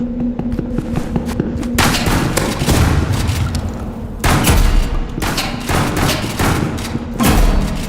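A shotgun fires in a Roblox video game, with loud booming blasts repeated in rapid succession over constant dense game noise; no voices are heard.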